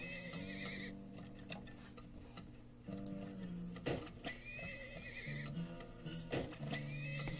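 Horses in the video game Turmoil neigh and whinny repeatedly, with clip-clop hoof taps and ticking game sounds between the calls, fairly close and clear over background game noise.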